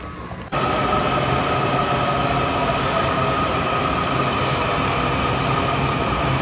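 Subway train at a Washington DC metro station, a loud steady rumble of wheels on rails that kicks in suddenly and holds, with faint squealing high above the roar.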